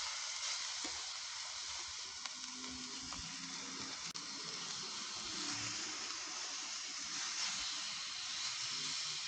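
Sauce poured onto lean browned venison in a pan at a campsite, giving a steady sizzling, hissing fry that runs throughout, close and fairly quiet with no talk.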